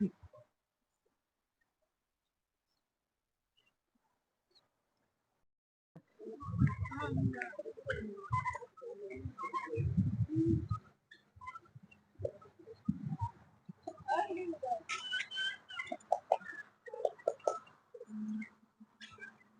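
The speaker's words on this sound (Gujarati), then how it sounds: "પક્ષી બહુ છે મસ્ત" Several birds call and chirp in short overlapping bursts after a quiet start. The calls are fairly close and are mixed with rustling and occasional faint voices.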